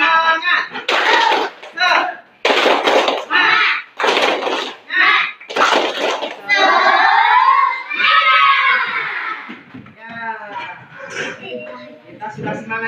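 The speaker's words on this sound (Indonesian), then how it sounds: "Tepuk semangat." Schoolchildren in a fifth-grade classroom clap out a rhythmic spirit clap in loud, evenly spaced bursts with shouted chanting, then the noise breaks into excited voices and talk.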